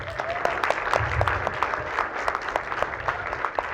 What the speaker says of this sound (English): A round of applause, please, for our candidate